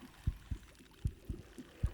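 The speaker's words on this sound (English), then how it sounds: "I got a heartbeat on this GAR" Heartbeat cue from a gar fish in Bassmaster Fishing 2022, a soft, low double-thumping pulse repeating steadily about three beats across two seconds, faint and alone.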